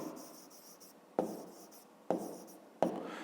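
A pen scratches out numbers on paper in short, faint strokes close by, with three sharper taps as the tip lands between bursts of writing.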